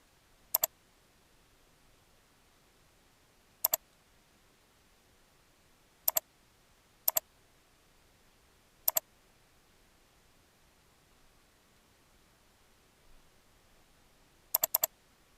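A few sharp, isolated clicks spaced irregularly across a quiet background, with a quick double tap near the end, as of keys pressed one at a time on a computer keyboard.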